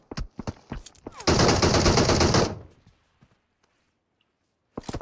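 A loud, sustained burst of automatic gunfire in a video game, shooting from a window, preceded by scattered single shots and followed by a near-silent pause before more shots.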